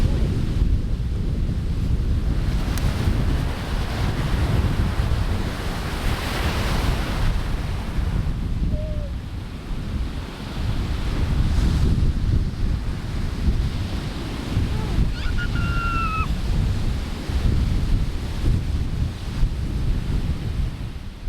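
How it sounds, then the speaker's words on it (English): Steady ocean surf rolling onto the shore at Bellows Air Force Base beach on Oahu, a continuous broad wash with gentle swells and wind buffeting the microphone, brief faint bird-like chirps near the end. "We lost track of time just watching the steady rhythm of the ocean."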